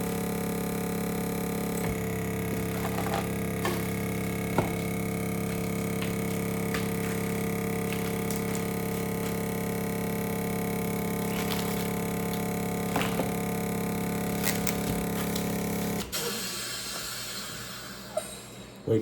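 A vacuum food sealer runs with a steady, close motor drone and whine while it seals a bag of flour. The drone holds evenly for about sixteen seconds, then cuts to a quieter, shifting noise.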